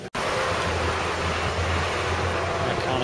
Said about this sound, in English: get a bit windy up there